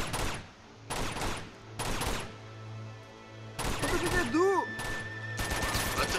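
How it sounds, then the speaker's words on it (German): Gunfire aimed at a shield in Uncharted 2: loud bursts of rapid shots in several separate blocks with short quieter gaps between them, mixed with ringing metallic tones and game sounds. "Wie oft muss ich den denn noch in den Schild ballern?"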